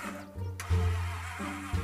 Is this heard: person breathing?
no